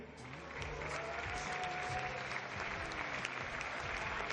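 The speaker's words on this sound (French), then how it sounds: "On peut les applaudir." An audience at a gala evening applauds models on stage, steady broadband clapping sustained throughout with no pauses and a faint low murmur beneath.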